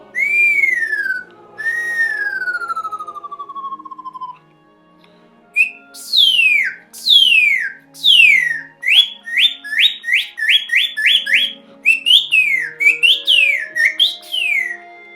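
A Lamy birdsong whistle, a string-tensioned pitch instrument, plays imitation birdsong: two long descending slurs, a pause, then a fast run of sharp, repeated downward chirps, loud and close with no voices.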